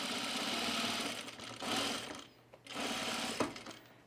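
Sewing machine stitching along the edge of a fleece pullover seam, a close, steady mechanical whir that runs in two long bursts with a brief pause between them.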